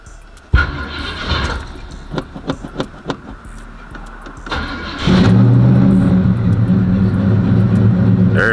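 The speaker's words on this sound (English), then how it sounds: "why it start up so high, like getting with the idle" Box Chevy engine cranks and catches, then settles into a loud, steady high idle that drones on without a break, after several scattered clicks and thumps inside the cab.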